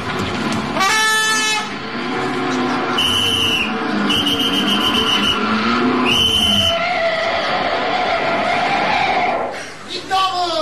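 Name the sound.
car horn honking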